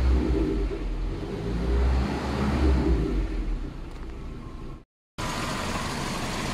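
A Toyota Kijang engine revs steadily at a low, heavy rumble while its radiator is being flushed, then cuts briefly to silence before the engine noise resumes at similar strength.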